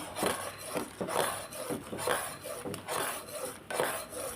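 Sugar syrup for rava laddu boils in a pan while a spoon stirs it with steady scraping strokes against the metal, repeating about every half second under a bubbling hiss.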